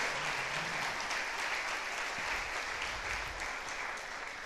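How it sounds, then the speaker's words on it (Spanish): Sustained applause from a church congregation during a Sunday service, steady dense clapping filling the whole stretch with no break, with faint low voices beneath. "Denle ese aplauso al Señor."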